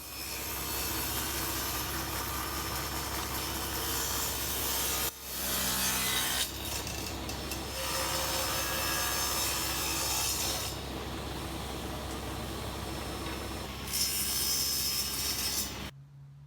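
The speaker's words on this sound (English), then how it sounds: "I ripped down some of the same timber into strips." Timber being ripped into strips on a saw, a continuous loud whine and rasp of the blade cutting wood that shifts in tone partway through and stops abruptly at the end.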